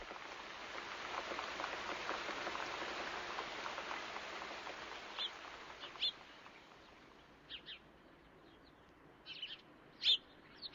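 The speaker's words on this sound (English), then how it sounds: "Then it began to rain. It rained a lot" Steady rain hisses down, fading over time, with a few sharp drips and chirps standing out near the end.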